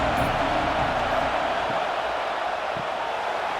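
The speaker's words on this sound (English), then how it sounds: "This crowd bringing the energy and noise early." Football stadium crowd during an FFL Eastern Division championship game: a constant, dense wash of distant crowd roar and chatter, steady in level with no single voice standing out.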